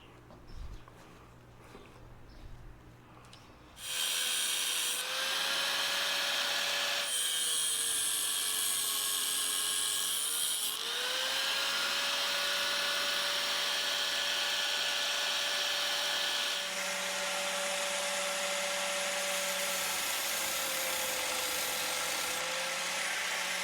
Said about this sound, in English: you need a grinder with a cutoff wheel